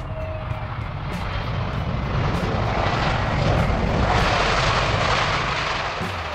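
Airbus A321XLR narrow-body jet engines roar in a loud, steady broadband rush that swells slightly toward the middle, close and continuous with no voices.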